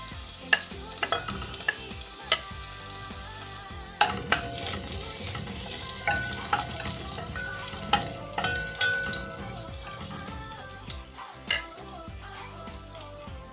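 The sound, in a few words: garlic sautéing in olive oil for mung beans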